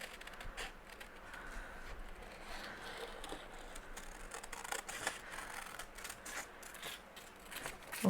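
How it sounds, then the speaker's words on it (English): Scissors snip steadily through the back half of a paper envelope, a quick run of close crisp cuts and rustles from a crafting table, heard alone without talk. "I'm going to do a very poor job of cutting this out quickly."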